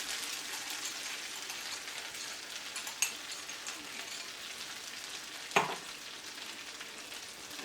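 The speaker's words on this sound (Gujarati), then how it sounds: "વઘાર આવી ગયો છે. મરચા નાખીશું. આદુ મરચા નાખવા ગેસ ધીમો કરી નાખીશું." Ginger and green chillies sizzle in hot tempering oil over a low gas flame, a steady soft crackle broken by two sharp spits or stirs, with no talking.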